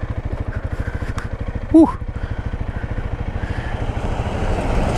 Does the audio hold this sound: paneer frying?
no